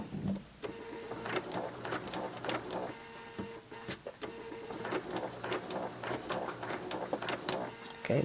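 A sewing machine stitches a tiered maxi skirt in a series of short rhythmic bursts of needle clatter, separated by brief pauses, close and fairly quiet.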